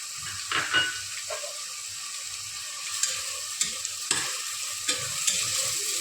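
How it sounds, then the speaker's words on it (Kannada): Tomato and turmeric being stirred and fried in hot oil for a Karnataka-style chicken biryani, a steady close sizzle with soft scraping stir strokes and a few clinks of the spoon against the pan. "ಇದೆಲ್ಲ ಮಿಕ್ಸ್ ಮಾಡಿ ಸ್ವಲ್ಪ ಹೊತ್ತು ಹುರಿದ್ರೆ ಎಣ್ಣೆಯಲ್ಲಿ ಚೆನ್ನಾಗಿರುತ್ತೆ"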